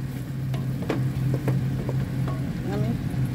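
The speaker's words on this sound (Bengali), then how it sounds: "লটিয়া শুটকিগুলো ভাজা ভাজা হয়ে গেছে, মশলা ভাজা ভাজা হয়ে গেছে।" Dried lotiya fish and spices fry in a pan with a steady low sizzle, broken by a few sharp clicks and scrapes of stirring, heard close up.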